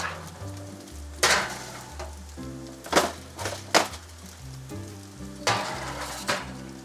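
Meatballs fry in a pan with a constant close crackling sizzle, broken by a few louder bursts and spatters as they are moved and turned.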